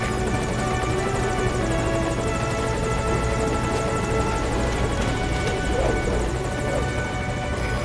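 A helicopter in the video game Metal Gear Solid V: Ground Zeroes gives a steady, loud rotor drone with a deep hum that holds for the whole stretch, with dense game ambience around it.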